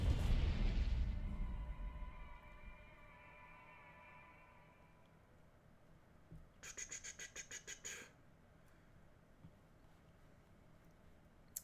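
Bombing explosion effect in the KARDS video game, a loud burst at the start fading into a long rumbling decay, followed later by a short burst of rapid crackling pops, no talking.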